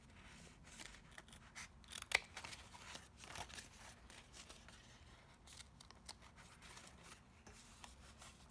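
Scissors snip through paper during a craft project, a series of soft close crisp cuts and rustles in a quiet room, one sharper snip standing out.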